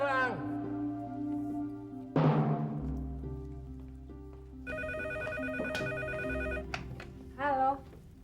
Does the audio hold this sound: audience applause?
no